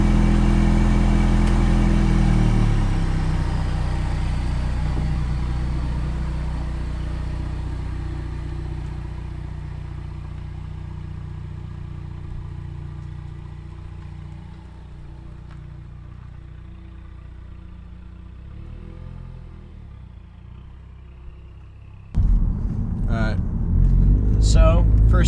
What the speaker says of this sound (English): So, first test drive with the charge pipes on.